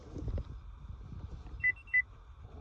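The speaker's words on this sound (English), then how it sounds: "There's the beep" Two short electronic beeps chirp from a 2014-2018 Chevy Colorado or Silverado pickup as its key fob remote learning mode activates, a clear pair of tones over quiet cabin noise with faint handling sounds.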